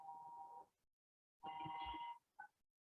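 A mobile phone sounds a tonal notification during a library board meeting: a sustained beep, a pause, a longer chime, then a short final blip, fairly faint in a quiet room.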